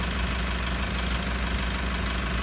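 A vehicle engine idles steadily during a pilot learn procedure for a P1601 fault, giving a continuous, even low rumble with a fine mechanical knock throughout and no voices.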